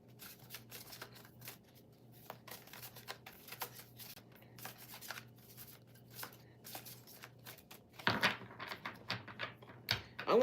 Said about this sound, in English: I'm going to shuffle this deck one more time.